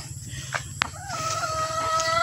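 Hens in a backyard make short clucks and calls, with one sharp burst near the start, over steady background noise.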